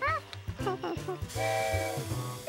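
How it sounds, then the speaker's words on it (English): A sharp whistling hiss of steam starts midway and holds steadily after a few brief, choppy sounds, fairly loud and close. "Steam coming out."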